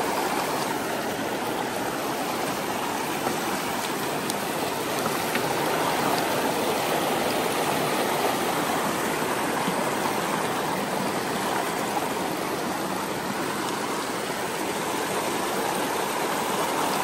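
River stream rushing near Awasen Falls in Ilocos Sur, a steady loud broadband wash of flowing water, continuous and close, with no talk.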